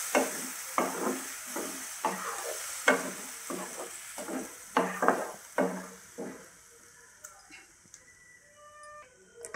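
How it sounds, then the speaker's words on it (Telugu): A ground tomato, onion, green chili and coriander paste fries in a pan for an egg masala curry, with a series of sharp stirring knocks and bursts of sizzle that fade to a quiet simmer with light ticks. "ఇప్పుడు ఇందులోకి మనము గ్రైండ్ చేసుకున్న టమాటో, ఆనియన్, పచ్చిమిర్చి, కొత్తిమీర పేస్ట్ని వేస్తున్నాను."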